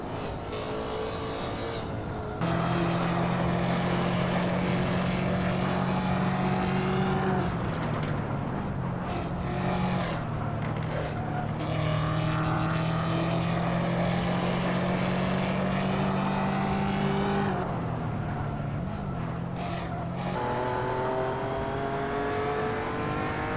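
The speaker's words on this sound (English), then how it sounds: "That noisy Mercedes behind that." Mercedes race car engine in the Hot Wheels: Universe Zero game, a loud, sustained droning roar with steady pitch that shifts at gear changes, running close and continuous with no talk.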